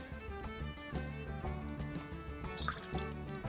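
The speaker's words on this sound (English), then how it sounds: "We're then going to go 15 mils or half an ounce of freshly squeezed lemon juice." Freshly squeezed lemon juice poured into a Long Irish Iced Tea cocktail, heard as a soft, steady trickle with faint drips and small clinks, quiet and close.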